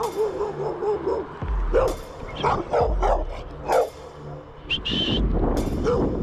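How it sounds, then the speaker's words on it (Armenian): A dog barks at night near a construction site with cranes, several sharp separate barks with small yips and whines between them, fairly close over low background noise. "Հենա մի հատ շուն եկավ։"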